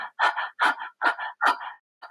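A person doing rapid dynamic yoga breathing that imitates a panting dog, with four quick, loud, rhythmic breathy bursts up close, then one short softer puff after a pause.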